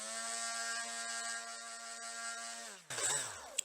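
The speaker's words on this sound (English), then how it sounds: "So sanding is just a little bit faster with the detail sander." An electric detail sander runs on wood with a steady, close buzzing whine for a few seconds, then winds down and stops, followed by brief clattering handling noises.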